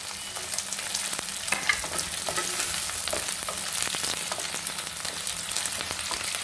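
Chopped ginger fries for restaurant-style chili chicken, a steady close sizzle and hiss of hot oil with occasional scrapes and stirs of a spatula, running continuously with no voices.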